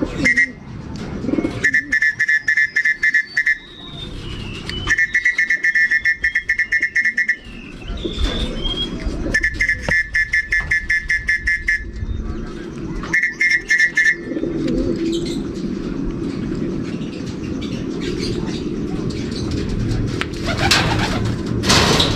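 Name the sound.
racing pigeons cooing on return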